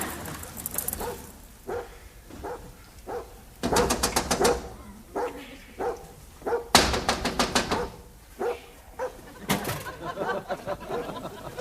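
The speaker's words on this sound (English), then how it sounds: "Damn dog at my heels." Dog barks sound in repeated bursts, several loud, sharp volleys close by, separated by short pauses, with a few softer yips between them and no talking.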